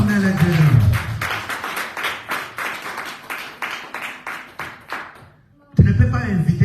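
A church congregation claps in a steady run of sharp, evenly spaced claps to acclaim God, loud and close over background voices, then briefly falls quiet before a voice resumes.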